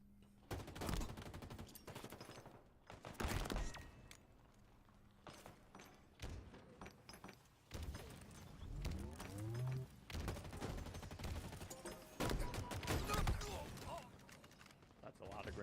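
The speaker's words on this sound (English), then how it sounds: "That's a lot of grenades." Grenade explosions in a video game, a run of sharp bursts and rapid crackling blasts repeating through the stretch, mixed with people talking.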